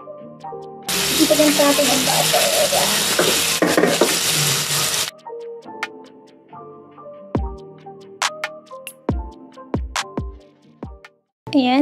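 Pork steak sizzles loudly in a hot pan for several seconds, then the frying cuts off and gives way to intermittent clinks and knocks of utensils against cookware.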